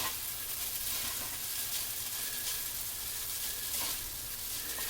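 Lo mein noodles stir-fry in hot oil, giving a steady, close sizzle with soft crackles and occasional scraping bursts as the noodles are tossed in the pan.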